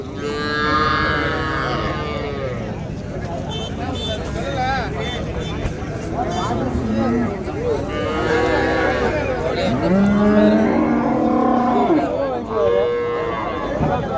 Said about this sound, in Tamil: நம்ம அண்ணா காளை கன்றுக்குட்டி ஒரு ஜோடி கொண்டு வந்திருக்காரு பாருங்க